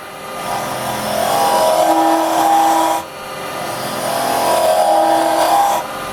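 Wood lathe spinning a small goblet while carbide chisels cut its inside, a loud continuous whirring roar in two long passes broken by a brief dip around the middle.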